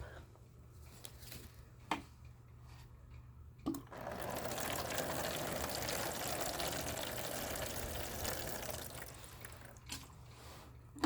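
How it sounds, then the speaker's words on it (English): Water poured into a seed tray to bottom-water sown seeds, a steady low rushing fill lasting several seconds close by, framed by a few small knocks and clunks before and after. "I'm going to water from the bottom up"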